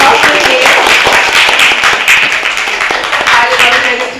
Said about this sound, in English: Give a applause to him.